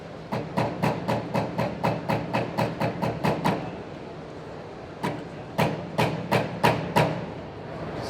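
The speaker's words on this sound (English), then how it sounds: "that's a hemming hammer" A hemming hammer strikes the edge of an aluminum Ford F-150 door skin during collision repair, a quick steady run of sharp metallic taps, a pause, then another burst of evenly spaced blows, close and clear.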